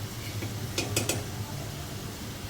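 Spicy fried potato slices are lifted from the pan onto a dish, with a couple of close metallic clinks of utensil against cookware over a low, steady background rumble.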